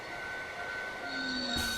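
A train runs along its route in the A-Train railway simulation game, a steady rolling hum with sustained tonal whines that shift and brighten near the end, heard alone without voices.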